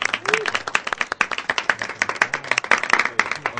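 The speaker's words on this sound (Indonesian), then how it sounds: "Mari kita beri tepuk tangan untuk Pak Dobles." Audience clapping after a storytelling segment, a steady patter of many hands at moderate distance with brief voices mixed in.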